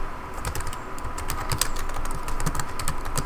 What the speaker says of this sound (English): just type service SSH start